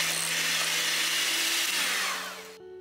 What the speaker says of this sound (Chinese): 中速先将黄油打发一下